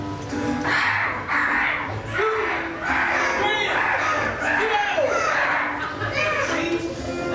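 Crows caw repeatedly over a farm field, their rough calls recurring throughout and mixed with voices talking.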